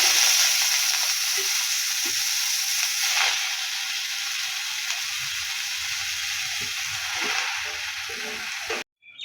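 Nigella seeds tempering in hot oil for a vegetarian greens dish, giving a steady close sizzle and crackle that runs throughout, with a few soft stirring knocks and no talking.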